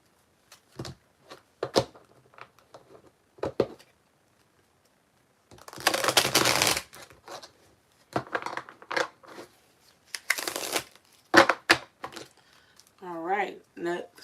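Tarot cards are shuffled by hand in several short, crisp bursts of riffling and flicking, close and fairly quiet, with gaps of near silence between them.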